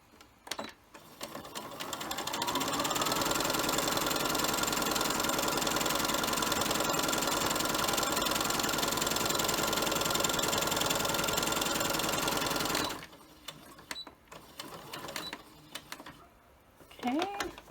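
Sewing machine stitching a fat-quarter fabric face mask, running in one long steady whirring burst of about ten seconds, then stopping as fabric is handled.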